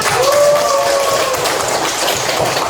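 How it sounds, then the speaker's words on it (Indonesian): A classroom group applauds a team of students after a peer-teaching presentation on artificial intelligence, a steady, fairly loud wash of clapping with a faint tonal whistle early on. "kita berikan aplaus dulu untuk kelompok 1"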